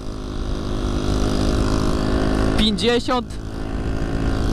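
A scooter with a cracked exhaust patched with a small pipe drones with a steady, rough, buzzing engine note throughout, while someone talks briefly over it in the middle.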